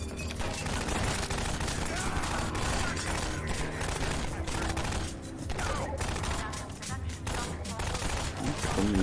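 Heavy gunfire in Half-Life 2, sustained fusillades of automatic shots with booming impacts, loud and continuous with brief lulls, mixed with faint voices.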